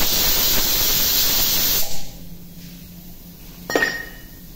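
Ghee hissing and steaming on a hot tawa griddle, a loud continuous sizzle that cuts off abruptly partway through, leaving a quieter hum before a brief clink and short burst of hiss near the end.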